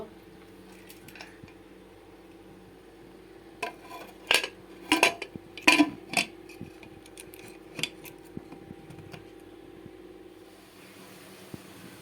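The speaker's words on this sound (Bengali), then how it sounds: "আমি মটনটাকে কুকারে ঢেলে দিলাম এখন ঢাকনা লাগিয়ে দেব" A metal lid clanks several times in a quick cluster as it is fitted onto a pressure cooker filled with mutton, with sharp metallic knocks against a quiet kitchen background.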